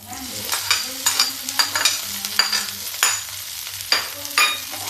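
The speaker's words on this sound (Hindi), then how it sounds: "इस आलू को हम फ्राई कर लेंगे, थोड़ा सा करारा करारा इसे हम फ्राई करेंगे" Boiled potato pieces with cumin frying in a pan, crisp sizzling punctuated by repeated scraping stirs from a spatula, close and fairly loud, with a low steady hum of a burner beneath.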